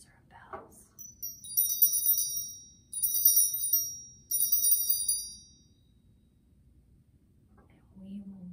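Small altar bells ringing in three bright, shimmering jingling bursts, close and clear in an otherwise quiet room, with a faint murmur before and after.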